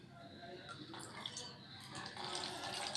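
Rainwater in a city during heavy rain runs off across paved ground, a steady broad watery rush with a brief trickling splash on top, continuous and moderately loud throughout.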